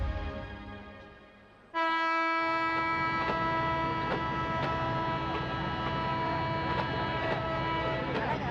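At a railway station, a train's horn blares suddenly and holds as a loud, steady, multi-toned blast over a low rumble, following a quieter stretch of background noise.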